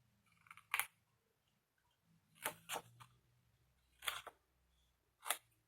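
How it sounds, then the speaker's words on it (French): Scissors snipping through paper in short, crisp bursts, roughly five or six close cuts spaced unevenly with brief pauses in between, some as quick double snips, in an otherwise quiet room without talking. "on dirait qu'avec ces ciseaux, je coupe toujours à côté du trait"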